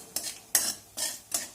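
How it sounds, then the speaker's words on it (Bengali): A spatula scrapes through black cumin seeds tempering in a hot kadai for a winter peas kachori, four close, distinct stirring strokes with a faint sizzle between them. "এবার এই কালো জিরাটা একটু নাড়াচাড়া করে নিয়ে"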